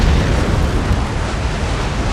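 In an Empire Total War naval battle, a ship blows up from a bomb as a dense, sustained roaring blast, loud and continuous for about two seconds with no talking.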